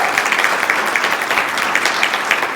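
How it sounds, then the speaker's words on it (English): Audience applause at a guest speaker event, with steady clapping from many hands filling the room at a loud, even level throughout. "hold your applause"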